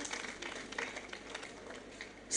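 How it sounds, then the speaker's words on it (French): An audience at a live spoken-word stage show applauds to welcome a performer, a faint, steady wash of clapping heard from a distance. "Sous vos acclamations, Isaac."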